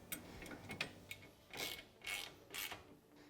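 A ratchet clicks in short rhythmic strokes while bracket bolts on a Can-Am Maverick UTV are snugged down, close and quiet with soft rubbing between pulls.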